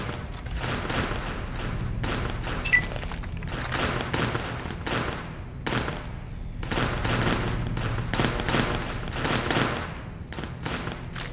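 Shotgun fire in the video game Fallout: New Vegas, loud bursts of gunfire repeating in irregular clusters with brief pauses between volleys.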